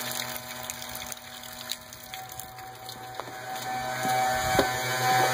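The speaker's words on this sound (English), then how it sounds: "that thing's blowing water out pretty good out here in the grass" A drain pump at a water changing station blows water out onto the grass outdoors: a steady, droning pump hum with gushing water and faint clatter, growing slightly louder toward the end.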